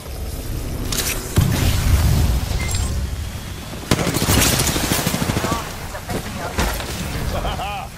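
Rapid bursts of video game gunfire crackle through an Apex Legends-style firefight, with sharp booms near 1.5 and 4 seconds and repeated shots over steady action noise while players talk over it.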